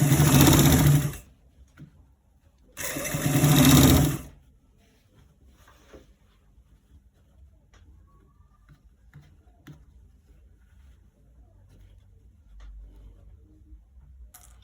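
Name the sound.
sewing machine stitching a collar roll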